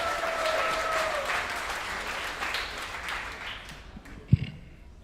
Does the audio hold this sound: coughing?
no